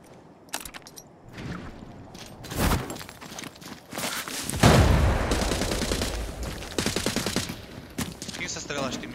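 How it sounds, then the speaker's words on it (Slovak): Bursts of video game gunfire in Arena Breakout: Infinite, several sharp shots and a rapid volley, with footsteps and players talking over the action. "S kým sa strieľaš ty, Mišo?"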